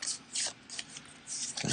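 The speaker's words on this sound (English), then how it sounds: "Going to shuffle it." A deck of cards being shuffled during an Altar Quest board game, soft papery riffles and rubbing in several short bursts, close and fairly quiet.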